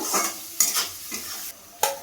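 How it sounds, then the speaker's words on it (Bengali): Hot oil sizzles steadily as onions fry until browned and are stirred, with repeated scraping bursts of a utensil against the pan at close range. "পেঁয়াজটা আমি ভালো করে লাল লাল করে ভেজে নেব।"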